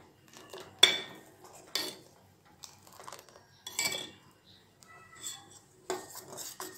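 A spoon stirs custard with sugar in a pan on the stove, making intermittent metallic scrapes and clinks against the pan in irregular bursts separated by quiet pauses.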